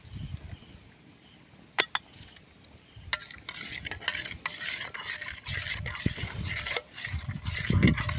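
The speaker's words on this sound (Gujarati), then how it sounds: "ગોળ ઓગળે ત્યાં સુધી એને હલાવી લઈએ." A spoon stirs melting jaggery in a pan for a sweet tamarind-jaggery chutney, producing close, steady scraping and soft sizzling with a few sharp metal clinks against the pan.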